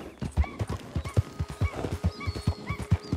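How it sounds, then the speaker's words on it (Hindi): Steady, rhythmic hoofbeats of a horse clip-clopping along in the game Red Dead Redemption 2, close and clear, with faint tonal chirps and clicks over the trotting. "अरे भाई घोड़े चल मेरे घोड़े"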